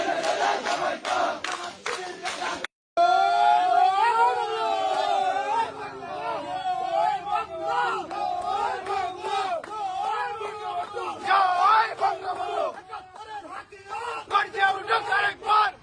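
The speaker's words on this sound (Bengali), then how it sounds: "বিজয়ের উল্লাস চলতেছে দুবাই স্কুল।" A large crowd celebrating an election victory in Bangladesh chants slogans in loud, rhythmic unison, many voices shouting together with overlapping cheers and chatter, staying close and intense throughout after a brief opening burst.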